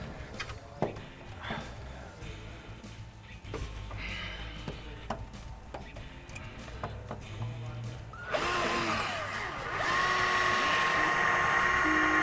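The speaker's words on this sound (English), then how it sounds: "Let me know when you want this drill." A power drill whirs steadily near the end, loud and close, after a stretch of clattering, tapping garage noise during work on a Chevy truck bed conversion and EFI installation.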